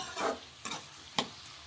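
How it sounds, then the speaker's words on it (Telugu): Onions and bitter gourd pieces cooking in a pan, heard as a soft, steady frying sizzle broken by a few sharp stirring scrapes, fairly close, with no talking. "ఉల్లిపాయ బాగా మగ్గేంత వరకు ఎర్రగా వచ్చేదాకా మగ్గించుకుందాం"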